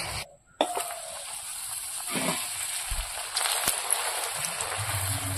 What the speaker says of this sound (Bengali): ফুচকাগুলো মা ভেজে নিচ্ছে, দেখুন কত সুন্দর ফুলে ফুলে উঠছে ফুচকাগুলো।